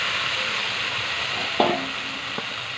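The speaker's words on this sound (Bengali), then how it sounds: "এবার এতে মাংসগুলো আমি ঢেলে দেব।" Chicken meat tipped into a hot pan over a clay stove hits the oil with a steady broad sizzle, then a brief clattering splash partway through and a small knock near the end.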